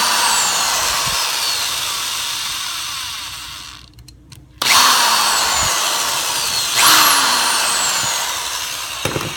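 A power driver whines steadily while backing out the screws that hold a pump head to its motor, pausing briefly midway before spinning up again, loud and close throughout with no voices.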